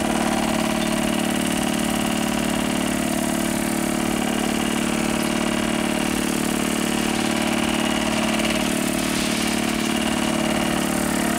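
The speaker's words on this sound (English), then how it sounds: "if we scroll all the way down to calibrate, and then we press F1, it'll begin doing some pumping action here" Pump on a Monitor 4 chemical calibration unit running in pumping action, a steady, continuous mechanical hum with a fine buzzing texture, unchanging and fairly loud throughout.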